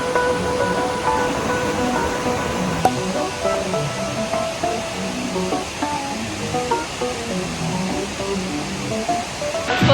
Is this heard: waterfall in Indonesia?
yes